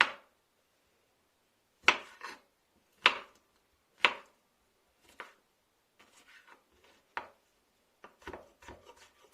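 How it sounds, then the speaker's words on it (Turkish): A knife chops gherkin pickles on a cutting board for kısır, sharp distinct thuds spaced about a second apart, then quicker lighter taps, close and crisp in a quiet kitchen. "Önce kornişon turşuları doğrayacağım"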